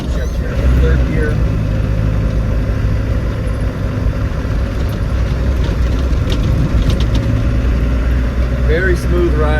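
A 1995 Land Rover Defender 110 with the 300Tdi diesel is driven while changing down into third gear. Heard from inside the cabin as a steady, loud engine and road drone throughout, with faint rattles over it.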